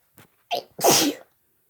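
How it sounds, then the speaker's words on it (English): A woman sneezes once, close and loud, preceded by a couple of short sharp intakes of breath, then silence. "the sound of her sneeze"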